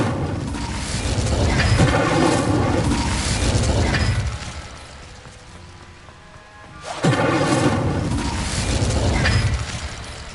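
Incendio fire spell blasts in Hogwarts Legacy, two loud, broad roaring bursts with crackling tails separated by a quieter gap, close and powerful, with no talk.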